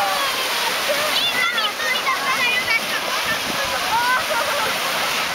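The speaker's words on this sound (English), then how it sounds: "just going to dip her feet in the water" Sea water at Ramla Bay on Gozo splashes and washes steadily as feet dip into the shallows. Bird chirps sound above the constant surf, and a voice is faintly heard in the background.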